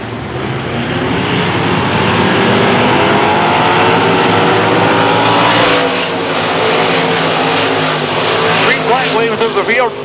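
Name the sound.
race cars on a dirt track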